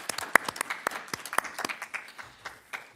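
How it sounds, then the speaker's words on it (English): Sparse, scattered applause from a small audience at a district board of health meeting, individual claps distinct and irregular, thinning toward the end with a faint murmur. "Round of applause."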